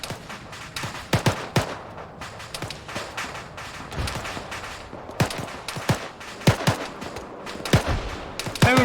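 Gunfire from the Arma 3 video game rings out in scattered single shots and short bursts, some sharp and near and others more distant, over a low background with no talking.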